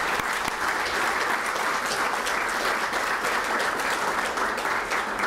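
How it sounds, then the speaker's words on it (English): An audience in the Alaska Legislature chamber applauds, a dense steady wash of clapping hands lasting several seconds at constant, fairly loud level with no voices over it. "I think that deserves a round of applause"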